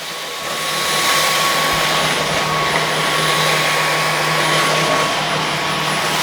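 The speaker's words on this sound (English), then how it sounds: "Now the vacuum cleaner will kick on." A Dyson V15s Detect Submarine cordless vacuum cleaner running on medium power, its motor spinning up and then holding a loud, steady whirring drone with a thin high whine above it.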